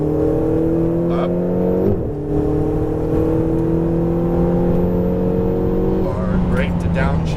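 A Ferrari 488 GTB engine drones at high revs on track, heard from inside the cabin as a steady loud tone that shifts pitch with gear changes while an instructor talks over it.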